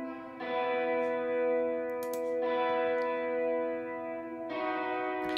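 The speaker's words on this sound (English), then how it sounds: "So this is how the reverb itself sounds." A sustained guitar chord rings with heavy reverb, washing out in long tails and then struck again, with three swells in a few seconds.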